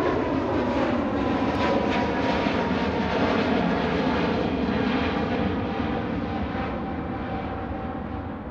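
Airplane taking off from runway 28R at Fort Lauderdale (FLL): a loud, sustained engine roar that stays near and powerful before easing gradually toward the end, with no talk.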